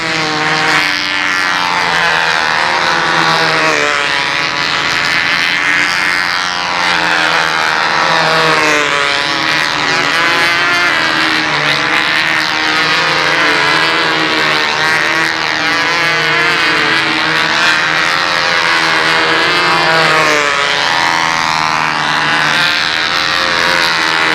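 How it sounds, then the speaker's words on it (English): A classic-design model airplane's motor runs steadily and loudly throughout, a continuous whining drone with a wavering pitch as the plane passes, at an outdoor flying competition on a windy day. "And it's got that really nice motor on it I like. Listen to that motor."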